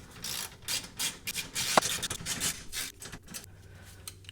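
Ratcheting and rubbing of a 13 mm wrench tightening a sway bar end link bolt on a 2018 Subaru Forester during a Whiteline 20mm adjustable rear sway bar install; steady close scraping clicks with one sharp metallic tick, no talk.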